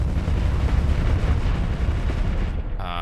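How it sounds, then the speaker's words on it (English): Ship weapons, including heavy cannons, fire continuously in the space game Starsector, a dense, rumbling barrage of booms and explosions that stays loud throughout before a short electronic tone at the end. "It's got a lot of weapons just blasting at this poor thing."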